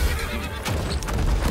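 A horse whinnies loudly in Street Fighter 6 gameplay, a drawn-out neigh over busy game sound with hoof clip-clops, close and continuous.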